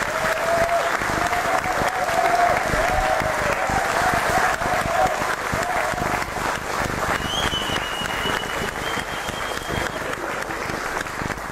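Audience applauding on a television music show, loud continuous clapping from a crowd that holds steady throughout, with voices and faint tonal sounds mixed in.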